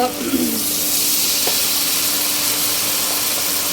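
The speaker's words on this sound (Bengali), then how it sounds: "একটু পানি দিয়ে দিব" Water goes into a hot pan of curry with onions, green chilies and ginger paste, giving a steady loud hiss and sizzle throughout, close up with no pauses.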